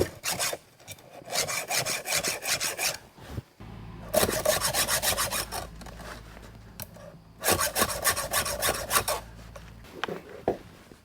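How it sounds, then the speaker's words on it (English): A hand file sharpens a chainsaw chain in steady rasping strokes, repeated in three bursts of rapid back-and-forth scraping separated by short pauses, close and clear with no talking. "chainsaw is sharpened up first."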